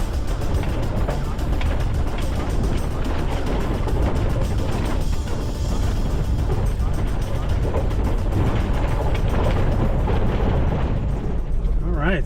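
A Lexus GX SUV fitted with BFG KO2 tires drives through soft desert sand on a canyon trail, with a constant loud rumbling roar of engine, tires and wind throughout and a voice faintly underneath.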